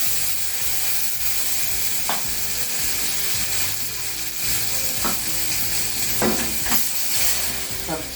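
Mustard seeds, dried chilli and curry leaves crackle and sizzle steadily in hot coconut oil while being tempered for Kerala mango pachadi, with a few sharp pops and stirring clinks rising above the continuous frying hiss.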